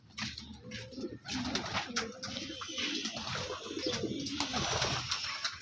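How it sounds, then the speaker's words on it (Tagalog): Pet pigeons coo softly and repeatedly while they drink, their low rolling calls overlapping at close range against a busy background. "Iinuman din mga yan mga kalapatids."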